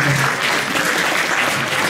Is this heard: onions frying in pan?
no